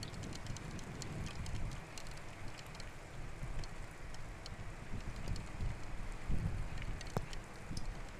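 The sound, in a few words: raindrops hitting a camera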